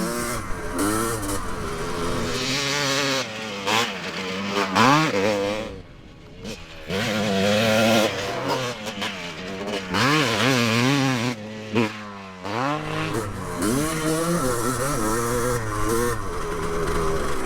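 A 47-year-old two-stroke motorcycle is ridden hard, its engine revving and rising and falling in pitch through repeated buzzing surges, with gear changes and brief drops off the throttle, loud and close throughout.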